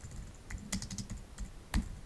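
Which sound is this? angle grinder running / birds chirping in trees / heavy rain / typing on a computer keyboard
typing on a computer keyboard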